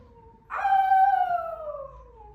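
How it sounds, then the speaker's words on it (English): A canine-like howl, as of a wolf in a cold forest, rises suddenly and holds a long wavering tone that slowly falls away, fairly loud and alone with no talking. "She hears a howling."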